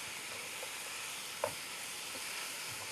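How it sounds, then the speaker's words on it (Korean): Sliced cabbage and seasoned meat stir-frying in a pan give a quiet, steady sizzle, with a few soft taps and scrapes from stirring. "많이 볶아요."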